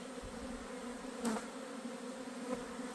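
A swarm of honey bees hums in a steady, soft drone, with individual bees buzzing close past now and then, quiet and without voices.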